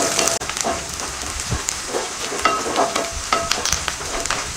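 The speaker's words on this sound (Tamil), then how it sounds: "வெங்காயம், கருவேப்பிலை 3 போட்டிருக்கேன். வதக்கிக்கலாம்." Onions and curry leaves sauté in a pan, giving a continuous close sizzle with crackles and scraping stirs. Occasional brief metallic clinks cut through the frying, and there is no talking.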